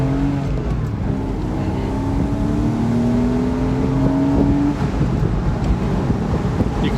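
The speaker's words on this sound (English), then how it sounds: "You can hear the engine." A car with a 225-horsepower engine weighing 2,700 pounds pulls out onto a main street after a cold start, its engine rising steadily in pitch as it accelerates, loud and close under wind and road noise.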